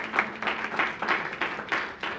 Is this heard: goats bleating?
no